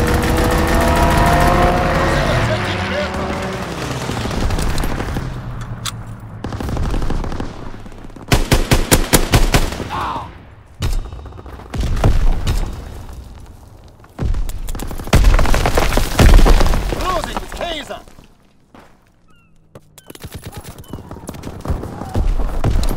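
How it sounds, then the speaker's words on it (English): Call of Duty WWII gunfire on the Shipment 1944 map in domination mode, with rapid machine-gun bursts and single shots crackling in loud, uneven volleys, broken by brief pauses and booms, with game voice callouts between the shots. "Firing primary battery."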